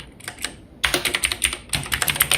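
Fast typing on a computer keyboard, close and crisp, with a brief run of keystrokes, a short pause, then a dense rapid burst of clicking keys and no voices.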